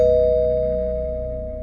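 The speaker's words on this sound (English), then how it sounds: "That's when someone rang the doorbell." A doorbell sound effect, a single sustained electronic chime tone that starts loud and slowly fades over under two seconds.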